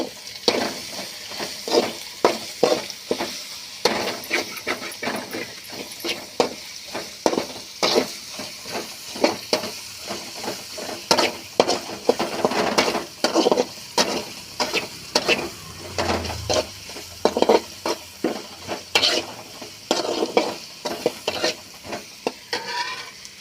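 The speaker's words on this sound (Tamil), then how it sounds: "அடுத்தது வெங்காயம் போட்டுக்கலாம்ப்பா" Onions fry in oil with ginger and garlic for a kurma, giving a close sizzle under repeated rhythmic spatula scrapes and stirring knocks against the pan.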